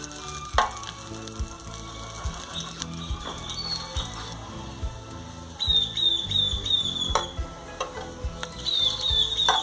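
Ground tomato, onion and garlic sauce fries in a pan with steady close sizzling and crackle, a few sharp clinks of a utensil against the pan, and bursts of louder spitting partway through.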